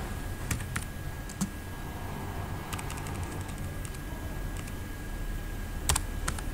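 Close, quiet keystrokes on a computer keyboard as code is typed in short irregular bursts of clicks over a steady background hum, with no voices.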